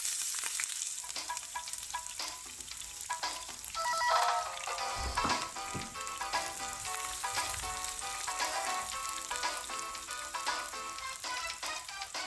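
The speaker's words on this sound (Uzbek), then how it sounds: "Hamma produktlarni birin-ketin qovurib olamiz" Ingredients frying in hot oil in a pan for Ukrainian borscht, with a steady crackling sizzle and stirring running throughout at moderate volume under background music.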